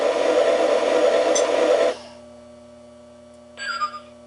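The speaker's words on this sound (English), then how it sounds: "When you hear the little whistle again, you know it's unlinked." A Lionel #4121 D&H LionChief Plus toy train whistle blows loudly for about two seconds, then a low steady hum remains, broken by one short, faint chirp near the end.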